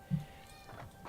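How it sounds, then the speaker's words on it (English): A black house cat meows loudly indoors, one short call with a harmonic rise, alone without talk. "Sweet cat, very loud."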